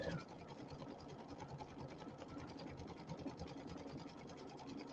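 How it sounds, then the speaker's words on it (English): An embroidery machine runs steady triple stitches on a fall pumpkin pillow design, giving a continuous fast mechanical whirring and ticking at moderate, fairly quiet level throughout, with no voices. "Going back and doing all the little triple stitches now."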